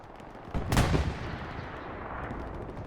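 Artillery strike landing in a World War II shooter game at Elsenborn Ridge: one heavy, close blast with a sharp crack, followed by a long rumbling decay and a steady low roar of battle underneath.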